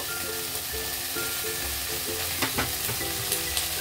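Eggplant and soaked peas frying in a pan: a steady soft sizzle with repeated scraping stirs of a spoon against the pan, plus a few light knocks near the end, close and fairly quiet with no talking.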